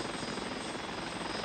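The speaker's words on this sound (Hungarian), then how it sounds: "Nyújtipő, a helikopterhez!" A helicopter in an animated film gives off a loud, continuous rotor and engine roar, close and steady, with no voices.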